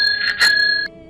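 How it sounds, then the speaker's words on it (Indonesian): A bicycle bell rings out bright and loud at close range, two quick metallic dings that ring on briefly before cutting off. "Sambil terus mainkan bel sepeda."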